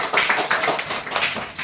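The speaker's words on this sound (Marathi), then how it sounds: "खूप छान, टाळ्या वाजवायच्यासाठी." Children clap together in a short, steady burst of bright, close claps that run for under two seconds with no talking over them.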